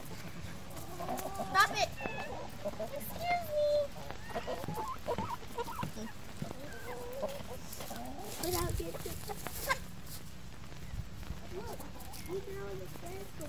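A White Leghorn chicken clucks in a backyard garden, giving short, frequent, close clucks throughout while people talk over it.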